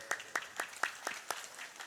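Scattered, fairly faint claps from an audience at an Islamic religious lecture (ceramah) for Purworejo residents, coming in a loose, uneven rhythm with no voices over them.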